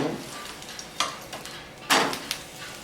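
Sorghum flatbread (hurda dhapata) roasting in oil on a pan, with soft sizzling and a couple of louder stirring or scraping bursts near the start and middle, close and alone without talk.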